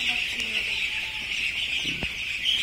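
A dense, steady chorus of high peeping from a brood of seven-day-old chicks, close and continuous, with no talking.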